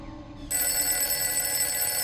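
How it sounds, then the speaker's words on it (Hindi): A landline telephone in a TV drama scene starts ringing after half a second of quiet. The bright electronic ring then continues steadily and fairly loudly to the end. "मुझे लैंडलाइन पे फोन आ रहा है।"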